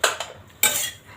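A spoon scrapes and clinks against a metal pan as roasted ingredients for a jaggery-free, sugar-free protein bar are moved into a bowl, two sharp bursts of scraping close by, with no talk.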